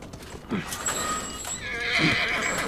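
A horse whinnies twice with hooves clopping beneath, over a game-like ambience with a faint high tone, in the video game The Last of Us.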